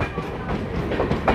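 An old MEMU local train rumbles and clatters past at close range, a continuous rolling rush with a faint rhythmic clack of wheels over rail joints, no one speaking.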